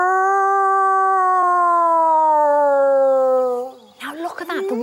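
A man imitates a wolf howl with his voice near a wolf enclosure, one long sustained tonal howl slowly sliding downward in pitch, followed by brief rough vocal noises as it breaks off.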